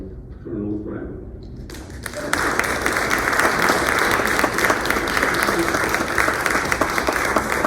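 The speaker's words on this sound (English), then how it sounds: "Please help me welcome Colonel Graham." A small audience at a talk breaks into sustained, steady applause welcoming a retired lieutenant colonel to the podium, following a brief stretch of speech before the clapping swells.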